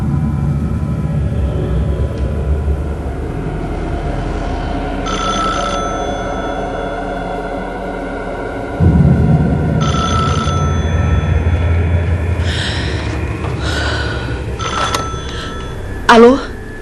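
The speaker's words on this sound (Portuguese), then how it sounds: "Bunny recebe uma ligação de Lorraine Warren" A telephone rings in a tense haunted-house setting, repeated bursts of ringing standing out over a steady low background, with a louder, sharper burst near the end.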